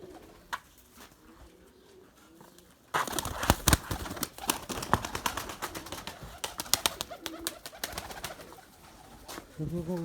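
Pigeons coo softly close by in a loft, with low repeated coos, scattered clattering and wing-flutter noises, and someone speaking at a distance.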